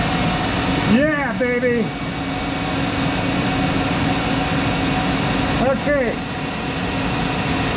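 A Monarch 10EE lathe running at about 2,500 RPM gives a steady, loud mechanical hum throughout, with someone briefly speaking over it twice.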